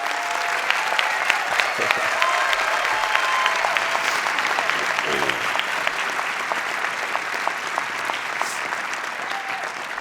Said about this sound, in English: I'd like you all three to stand again so that we can give you a round of applause